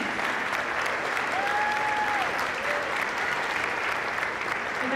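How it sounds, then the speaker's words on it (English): A graduating class applauds its supporters at a 2019 high school graduation ceremony: steady, dense clapping from a large crowd fills the hall throughout, with a faint whistle rising briefly over it. "turn to your audience of supporters and champions, give them a round of applause"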